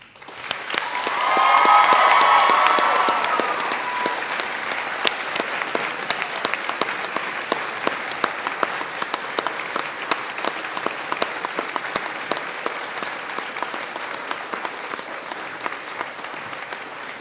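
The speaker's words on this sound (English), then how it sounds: "Graduates, please stand and offer your applause to the people, the staff here behind me" A large crowd of graduates at a university graduation ceremony breaks into loud applause that peaks quickly, then settles into steady, sustained clapping that continues throughout.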